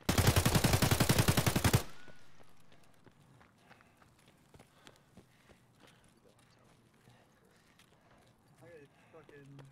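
A burst of rapid, loud gunfire from the shooter game Escape from Tarkov opens, a quick string of shots lasting under two seconds, then fades into quieter rustling, footsteps and faint background noise.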